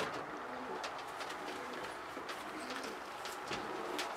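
Pigeons cooing softly in a loft, a low murmuring coo repeated under a steady background hum, fairly quiet and without talk.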